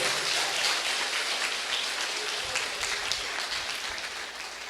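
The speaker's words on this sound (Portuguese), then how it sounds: "Vamos aplaudir o Senhor pela sua palavra." Sustained applause from a church congregation during a sermon, steady dense clapping filling the whole stretch and tapering slightly near the end, with no talk over it.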